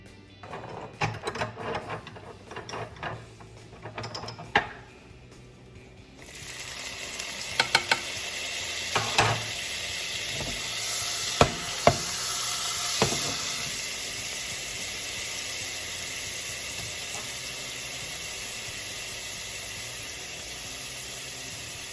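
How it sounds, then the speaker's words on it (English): Garlic and meatballs hit a hot pan and a loud, steady sizzle takes over, with occasional clinks and stirring scrapes over the continuous frying hiss. "Once the garlic starts to sizzle, then I know it's okay to put the meat in there."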